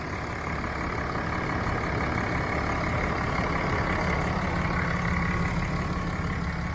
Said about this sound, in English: good strong running diesel.